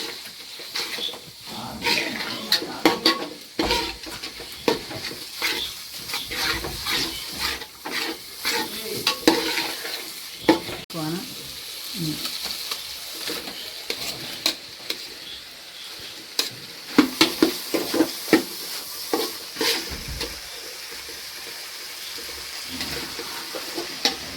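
Cassava pieces go into a pan with a reduced clam-meat masala and are stirred vigorously, with dense close scraping and clattering over a continuous sizzle and irregular loud knocks of the spoon against the pan.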